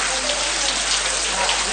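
Continuous heavy rain in Trincomalee, a dense, loud, even hiss of falling water and drops on surfaces, steady from start to finish with no voices.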